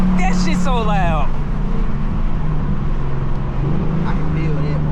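A 2024 Ford Mustang GT fitted with Kooks headers rumbles loudly up close, its deep exhaust drone running steadily under excited voices talking over it.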